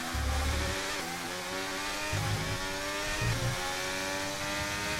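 Formula 1 car engine in the video game F1 23, a high-pitched whining drone held steady at fairly low level, with brief dips and climbs in pitch as the car brakes and accelerates through a corner.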